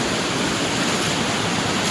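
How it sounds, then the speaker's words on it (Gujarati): The flooded Kaveri river near Chikhli in Gujarat, its water high enough to fill a riverside temple, pours past in a loud, unbroken roar of rushing water heard up close and alone. "નદીમાં બહુ પાણી આવ્યા છે"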